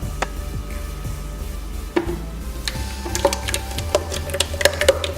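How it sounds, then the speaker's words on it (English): Cooked homemade ketchup mixture being scraped and spooned into a blender in a home kitchen, giving irregular knocks and clinks of utensil on container with scraping in between. "So I'll be transferring everything into the blender now."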